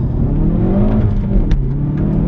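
A front-wheel-drive Hyundai i30N Performance hot hatch accelerates hard, its engine droning loud and steady from inside the cabin with a rising pitch and a brief shift blip midway.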